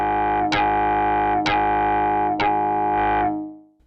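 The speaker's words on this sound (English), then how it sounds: "after the filter you get the wave shaper, which adds some saturation" A buzzy synth tone from Kilohearts ONE synth, saturated by heavy wave shaper drive. It is played as four sustained notes with sharp attacks, loud and close, then it fades away.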